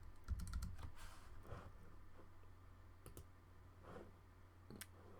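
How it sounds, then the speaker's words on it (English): Soft keystrokes tap on a computer keyboard, a quick cluster at first and then sparse, scattered clicks in a quiet room. "I'll just type"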